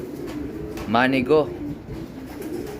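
A pigeon in a breeding loft gives one soft, rolling coo near the start, close by, with quiet background murmur and someone talking briefly.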